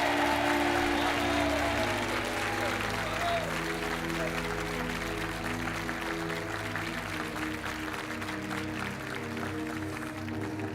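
Applause from a game show studio audience, a steady clapping wash over a held music bed, fairly soft, while a host talks over it.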